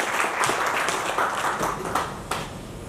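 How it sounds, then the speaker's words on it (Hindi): Applause from an audience at a Hindi-language gathering as a guest named Narendra is welcomed, a steady patter of clapping at moderate volume with a few louder bursts. "जोरदार ताली के साथ नरेंद्र जी है।"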